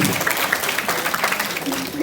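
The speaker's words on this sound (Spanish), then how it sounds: "Gracias por los aplausos" Students in a university epidemiology class applaud together, a dense steady patter of clapping filling the room for a couple of seconds at moderate loudness, with a bit of voice mixed in.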